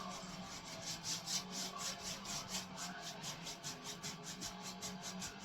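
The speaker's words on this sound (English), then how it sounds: "Just do that to beat excess paint off the brush, because I'm just here blending it." A paintbrush scrubs back and forth across a canvas in quick, rhythmic strokes, a soft, close rasping that repeats evenly, blending paint with no talking.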